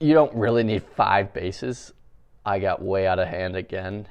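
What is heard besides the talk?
No distinct noise like a dog, phone or traffic.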